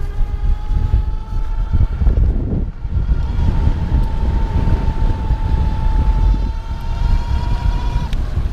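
A folding electric bike pulls away at full throttle outdoors, with heavy wind rumble over the microphone and a thin, steady motor whine rising out of the noise and holding for several seconds.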